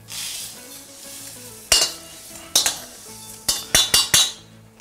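Rice being dry stir-fried in a pan over low heat, with faint sizzling and a series of sharp metallic scrapes and clinks from the spatula striking the pan in quick succession.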